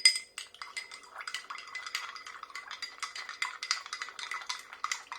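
A spoon stirring water in a glass to mix a powder for tubani, a northern Ghanaian dish, gives a steady run of bright clinks and scrapes against the glass, close and continuous, with no talking.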